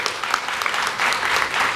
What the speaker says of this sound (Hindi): आप वर्तमान लोकसभा अध्यक्ष ओम बिरला जी के लिए तालियां बजा सकते हो